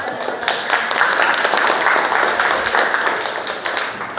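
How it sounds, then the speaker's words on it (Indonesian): A classroom group claps after a student presentation, a dense burst of applause that stays steady for several seconds, with a faint voice underneath. "Tepuk tangan lah"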